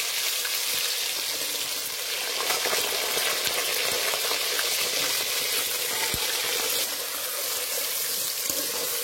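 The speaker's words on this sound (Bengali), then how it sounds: "লঙ্কাটা একটু ভেজে নেব। এবার দিয়ে দেবো গোটা জিরে, এবার দিয়ে দেবো আলু" Whole cumin seeds, chilli and potatoes fry in hot oil for a vegetarian jackfruit dish, making a continuous dense sizzle with small pops and occasional stirring clatter, close and alone without speech.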